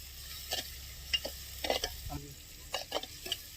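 Tomatoes go into a frying pan during outdoor Maggi cooking on a farm, followed by scattered utensil scrapes and stirring taps over a faint, low sizzle.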